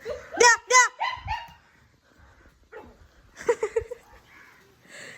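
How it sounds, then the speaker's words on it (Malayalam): A dog gives two sharp, close barks, followed by softer whimpering yelps and some talking nearby. "പട്ടി ഇവിടെ കിടപ്പുണ്ട്"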